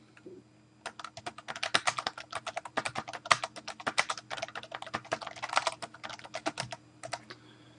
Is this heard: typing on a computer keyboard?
yes